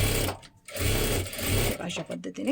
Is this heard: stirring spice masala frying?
no